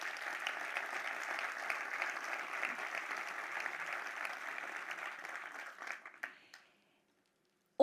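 Audience applause for a technical team at a municipal development index presentation, steady dense clapping from a crowd that fades out over the last two seconds, leaving silence.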